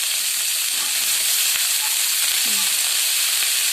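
Cut potatoes tipped into a pan of frying pork ears set off a steady, close sizzle and hiss that runs unbroken throughout, with a faint clatter partway through.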